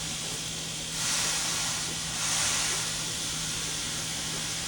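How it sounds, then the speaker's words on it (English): Steady hissing sizzle from lion's mane mushrooms releasing moisture in a hot cast iron pan, swelling twice in brief louder bursts over a faint low hum. "You can hear it sizzling right now, and that's just the moisture."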